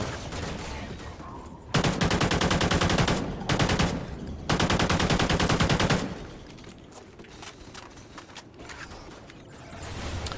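Rapid automatic fire from a small weapon in the Call of Duty video game, two loud sustained bursts back to back, then a quieter stretch of faint mechanical clicks and movement.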